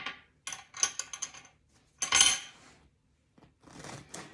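A knife slices through the crust of a freshly baked gluten-free pan bread in a kitchen, giving a few crisp crackling scrapes followed by one louder, longer crunching cut and then softer rustling.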